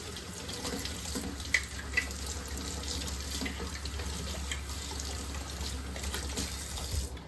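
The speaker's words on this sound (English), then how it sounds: "So I am gonna turn on the sink and get that water nice and hot" Steady stream of hot water pouring from a kitchen sink tap, constant and close, with a couple of faint clinks; no one speaks.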